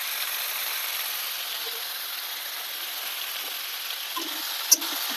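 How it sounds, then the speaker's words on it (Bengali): Spices with salt and turmeric frying for a meat curry in a pan, giving a steady, even sizzle with a small clink near the end. "ভালো করে কষিয়ে নেব"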